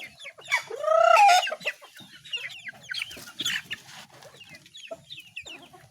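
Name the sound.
roundhead gamefowl clucking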